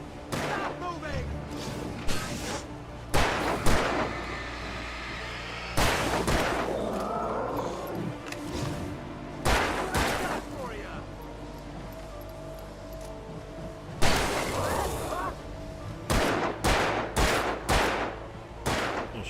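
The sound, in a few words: gunfire in Alan Wake video game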